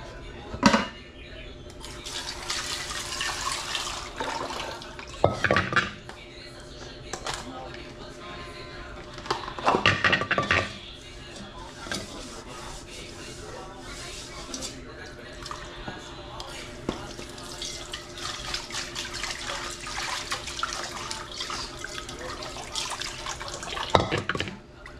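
A wok is washed in a kitchen sink under a running tap, with water splashing and trickling steadily. Louder bursts of splashing and scraping come now and then. Someone talks quietly over the sound.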